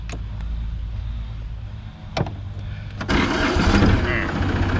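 An ISEKI TA270 27 hp tractor cranks and starts on the first try, with a few clicks and then a rising engine rumble that settles into a running clatter while someone talks.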